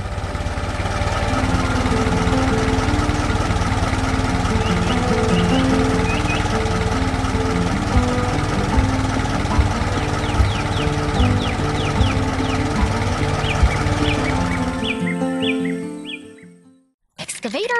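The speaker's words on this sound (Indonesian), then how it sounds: "Excavator membangun." An excavator works on a farm in a cartoon, its engine giving a steady droning hum throughout while birds chirp and caw in the background, then the sound cuts off abruptly near the end.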